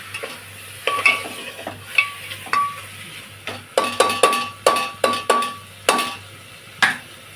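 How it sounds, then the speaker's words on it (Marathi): Chicken pieces frying in a pan and stirred repeatedly, a loud, close run of rhythmic spatula scrapes and clacks over a continuous oily sizzle, with no speech. "आता ते पाणी चांगलं फ्राय करून घेते"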